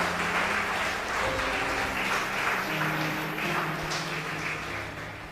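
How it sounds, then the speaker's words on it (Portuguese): Church congregation applauding steadily for several seconds in a dense, fairly even wash of clapping, with faint low murmurs underneath and no clear speech. "Ah, você quer dar um aplauso?"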